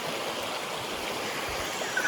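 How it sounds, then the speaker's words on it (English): Swift stream water rushing steadily close by in the Sawtooth Mountains, a continuous broadband wash with no break and a slight swell near the end. "that's some pretty swift water, Levi."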